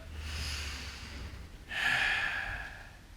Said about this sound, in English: Big breath in, big breath out.